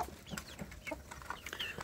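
Young free-range village chicks (ayam kampung) in a rearing pen give scattered soft clucks and peeps, several overlapping calls in irregular bursts at moderate distance, with no voices present.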